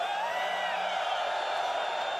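A large convention crowd in Hall A at CitizenCon 2024, the Star Citizen event, screams and cheers in one steady, dense roar that fills the space, heard from a distance without pause.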